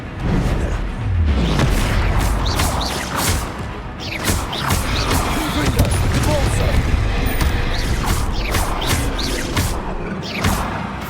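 Repeated Incendio fire spell blasts in Hogwarts Legacy during a troll fight, with dense booming bursts and crackling impacts throughout, layered under frequent spoken voices and busy game sound.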